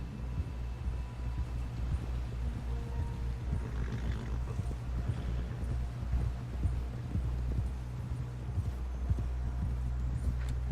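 Horse hooves clip-clop at a steady rhythm in the video game Red Dead Redemption 2, running under a constant low rumble of game ambience for the whole stretch.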